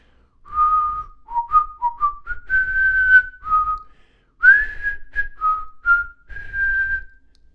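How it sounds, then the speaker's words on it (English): A person whistles a simple melodic tune, clear and close, in short phrases with brief pauses between notes. "You can whistle a little tune while you're working."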